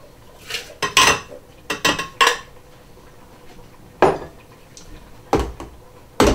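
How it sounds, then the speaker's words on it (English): A spoon stirs a reducing hot wing sauce in a pot, giving sharp metallic clinks and scrapes against the pot in irregular bursts with quiet gaps between, close by and without talk. "Now we're going to continue to stir this because it's not completely reduced."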